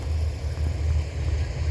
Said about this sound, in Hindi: ये कुछ ट्रैक्टर्स चल रहे हैं, ये मेरे ही खेत में खेत बराबर करने का काम कर रहे हैं ये ट्रैक्टर